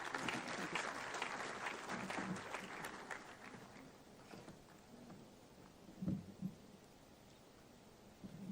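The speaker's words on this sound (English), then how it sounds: "Can we please have a very dynamic round of applause?" An audience applauds at the inaugural session of a defence dialogue conference in a large hall, a sustained wash of clapping that fades toward the end, fairly distant and moderately loud.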